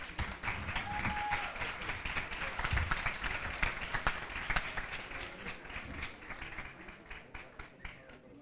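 Audience applause at a school literary event honoring a student group: a dense, sustained wave of many hands clapping at moderate distance, steady for about eight seconds and then thinning slightly toward the end.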